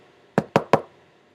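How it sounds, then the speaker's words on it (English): Three sharp knocks on a door, evenly spaced and close, ringing out alone against a quiet background as a story sound effect. "there was a knock at the door"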